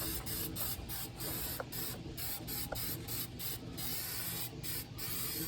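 An aerosol can sprays blue paint in short repeated hissing bursts with brief pauses between them, close and fairly quiet, with no talking.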